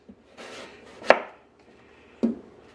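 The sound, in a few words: knife cutting a vegetable into slices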